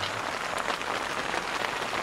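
Steady rain pattering on a rooftop tent during a storm, a dense, even wash of drops with no voices.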